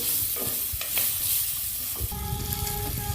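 Onions and capsicum fry in a pan for kadai paneer, with a close, continuous sizzle and sharp scrapes from stirring.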